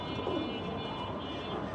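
Pigeons in a loft coo softly and faintly under a steady background hiss, with a brief low warble near the start.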